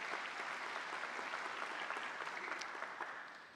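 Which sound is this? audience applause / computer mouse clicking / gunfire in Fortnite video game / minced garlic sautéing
audience applause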